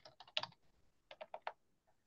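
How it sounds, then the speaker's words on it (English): Typing on a computer keyboard comes as two quick bursts of soft key clicks separated by a short pause, faint and close, with no talking. "I'm just typing in the name of the Facebook page"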